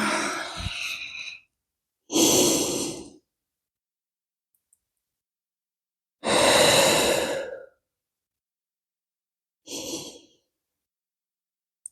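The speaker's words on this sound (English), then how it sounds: "inhale here, and then maybe exhaling, folding down" Deep, slow breaths during a yoga flow: four long inhales and exhales, each a soft airy rush lasting a second or more, separated by stretches of silence, close and clear.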